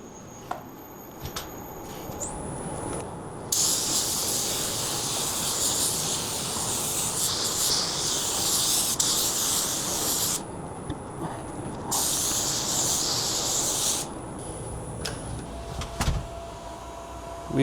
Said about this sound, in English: And primer's in the gun. We are ready to spray.